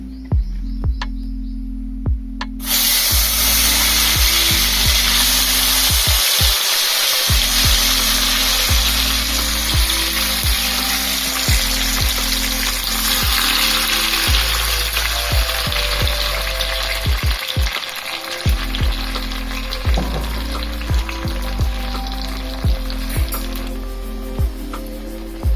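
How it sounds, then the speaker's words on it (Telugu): Chopped tomato pieces drop into hot oil for tomato pickle and fry with a loud, steady sizzle lasting throughout, broken by occasional stirring scrapes. "ఇప్పుడు ఆయిల్ వేడెక్కింది కదా, ముందుగా కోసి పెట్టుకున్న టమాటా ముక్కల్ని దీంట్లో వేసుకుందాము"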